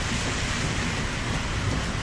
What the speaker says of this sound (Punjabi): ਹੁਣ ਇਹ ਬਰਸਾਤਾਂ ਸ਼ੁਰੂ ਹੋਈਆਂ ਨੇ